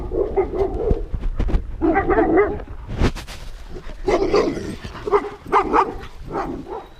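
A dog named Deacon, an Aussie, gives repeated barks and yips close by on a ranch, loud and lively over several seconds, with short whines between the outbursts.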